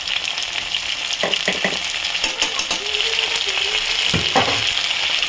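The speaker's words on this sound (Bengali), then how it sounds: "আদা বাটা দিয়ে দিলাম, এর সাথে সাথে আদা বাটা, রসুন বাটা" Ginger and garlic paste frying with meat in a pan over a high gas flame, giving a loud, steady sizzle with a few scraping stirs and clinks, no voices.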